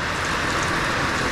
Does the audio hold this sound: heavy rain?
yes